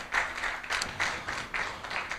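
A church congregation clapping in rhythmic bursts, several people applauding together in a steady beat of roughly two claps per second, fairly close and without talk.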